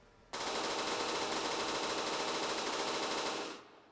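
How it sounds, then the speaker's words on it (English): Mounted MG32 machine gun in the video game From The Depths, firing one long, loud, unbroken burst of rapid shots that starts abruptly and fades near the end. "A mounted MG32."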